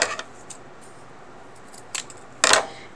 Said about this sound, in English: And I'm going to cut another piece that's the same size.